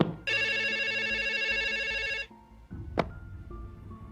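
An old-fashioned telephone bell rings loudly and continuously for about two seconds, then cuts off, followed by a quieter sharp click or clatter.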